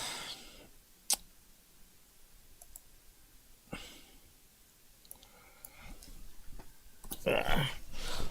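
Sparse computer keyboard typing with scattered single clicks and short bursts of keystrokes in a quiet room, faint and close, with no voices.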